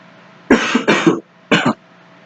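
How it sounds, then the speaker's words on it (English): Three harsh coughs close to the microphone, two in quick succession and a third after a short pause, with quiet hum between. "As I get hot, I start coughing more."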